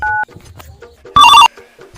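A telephone rings in two short, loud electronic bursts separated by a pause, with quiet background sounds in between.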